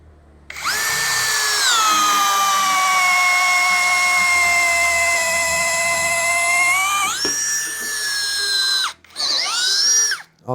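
A Huber HBD2116pro impact drill fitted with a 6 mm step drill bit bores into 2 mm thick steel, giving a loud, steady high-pitched whine that holds for several seconds, then slows briefly and spins up again near the end.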